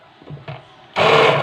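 A blender grinds lemons for a lemon concentrate, coming in loud and steady with a dense whir for the last half second after quieter handling noises.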